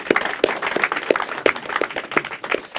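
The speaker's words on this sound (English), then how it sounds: "Give him a round of applause," An audience applauds, a fast, dense patter of many hands clapping at moderate loudness for a few seconds, with no voices over it.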